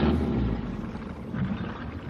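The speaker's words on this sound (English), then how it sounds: "There's 8 horsepower in this engine." An 8-horsepower boat engine runs with a steady, low, droning rumble that stays close and continuous throughout, with some wind buffeting mixed in.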